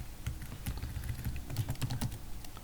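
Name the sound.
typing a command on a computer keyboard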